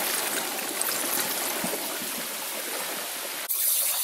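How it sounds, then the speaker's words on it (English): Water rushes steadily through an aluminum steep pass fish ladder fitted with many vanes beside a dam, a dense close roar that runs continuously before cutting off abruptly near the end. "the veins slow down the rush of the water"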